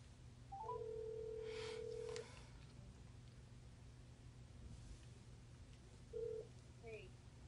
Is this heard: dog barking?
no